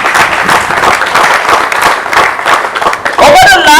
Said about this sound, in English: You must give yourself a round of applause